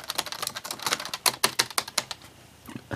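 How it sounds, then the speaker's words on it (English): Quick clattering keystrokes come from a tactile keyboard on a Toshiba Satellite T1910CS laptop with an Intel 486 processor, a close, uneven burst of sharp clicks that slows and thins out toward the end. "Get a really nice tactile keyboard. I really like the feel of it."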